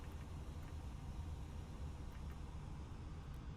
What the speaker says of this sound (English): You hear the bleeds coming off.